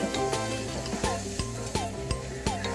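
Chopped onions searing in butter in a soup pot, a steady sizzle with regular clinks of a utensil against the pot, close and continuous with a faint low hum beneath.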